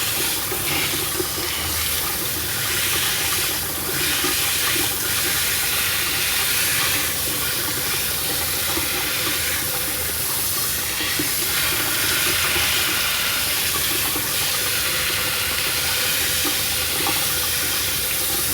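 Water runs steadily and loudly from a faucet while a dog's white fur is wetted during creative grooming, a continuous close rush with no pauses.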